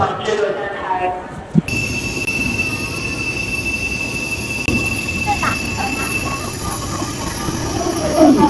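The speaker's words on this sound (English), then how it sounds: "This is my train, high-speed rail." A Chinese high-speed train rolls through with a sharp sudden onset and a sustained high whine and rumble, loud and close, continuing steadily throughout.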